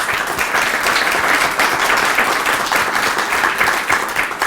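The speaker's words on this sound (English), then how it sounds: "I do want to just thank our speaker today with a round of applause." A seated audience gives a round of applause at the close of a talk on the liberal arts, dense, steady clapping filling the whole stretch at even strength with no voices over it.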